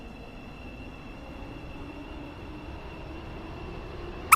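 A Stepford Country Railway metro train in a video game runs steadily at moderate volume, a continuous low rumble with a thin high whine, ending in a brief sharp clank.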